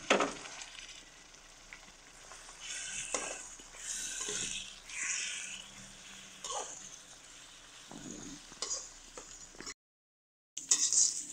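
Ground pork sizzles in a pan while being stirred for sopas, a steady close frying hiss with scraping stir strokes, briefly cutting out near the end.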